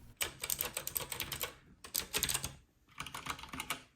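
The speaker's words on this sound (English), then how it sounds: "comes with blue swappable Gatoron switches that sound super clicky." Clicky blue Gateron switches on a Kwumsy K2 mechanical keyboard clatter in fast, dense bursts of keystrokes, close and crisp, with two brief pauses between flurries.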